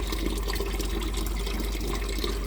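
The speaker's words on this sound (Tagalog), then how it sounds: "Magdidilig tayo." Water pours steadily onto plants during summer garden watering in Europe, a continuous close splashing hiss with no pauses and no voices.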